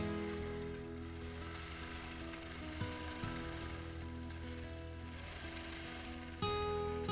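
A sewing machine running steadily during free motion quilting of a boxes pattern, a continuous close mechanical hum and whir with slight pitch shifts and brief pauses in speed.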